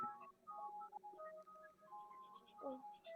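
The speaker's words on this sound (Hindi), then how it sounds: "मामा फोन आ रहा है आपका।" A phone rings during an online class, a faint melodic ringtone of short tonal notes played in a quick pattern.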